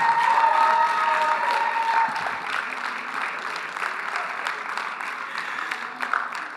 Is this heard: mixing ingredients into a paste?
no